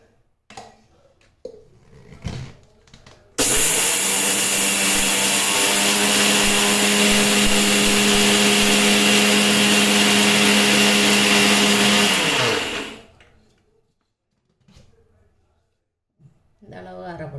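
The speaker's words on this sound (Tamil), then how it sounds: "இதையும் நான் அரைச்சிக்கணும்" A mixer grinder grinds green chilli pickle ingredients in one loud, steady motor whir of about nine seconds that starts abruptly and cuts off, with brief clatter and a voice before and after.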